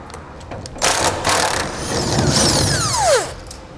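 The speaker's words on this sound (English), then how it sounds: "We'll use an 18mm socket to do that." An 18mm socket wrench works loose frame bolts up inside the frame of a 2015 Chevrolet pickup during a gooseneck hitch installation, giving steady metallic ratcheting and scraping with a few sharper clanks, fairly close and with no talk.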